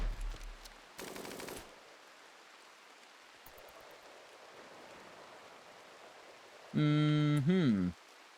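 Turrets firing in the video game RimWorld, with a rapid burst of gunfire early on and a louder, sustained electronic firing sound later, separated by quiet ambient noise.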